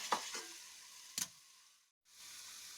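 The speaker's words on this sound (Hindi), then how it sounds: "फिर से इनको हल्का सा फ्राई करेंगे पालक के साथ।" Soya chunks fry with spinach in a pan, giving a faint, steady sizzle broken by a few stirring scrapes and a brief drop to near silence.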